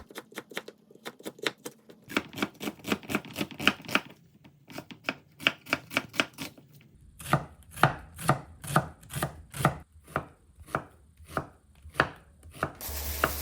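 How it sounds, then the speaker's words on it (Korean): A knife julienning carrot, onion and zucchini on a cutting board, quick sharp chopping strokes in steady bursts with short pauses, close and clear, no voices. "당근, 양파, 애호박을 국수면과 함께 먹기 좋게 총총총 채 썰어 준비합니다"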